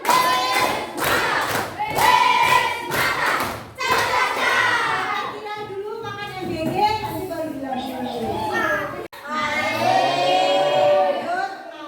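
Audience at a Gasing mathematics training session claps in a patterned rhythmic round of appreciation, several sharp beats in quick succession, followed by someone talking.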